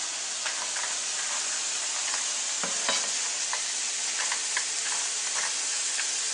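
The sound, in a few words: cashews stir-fried in a hot pan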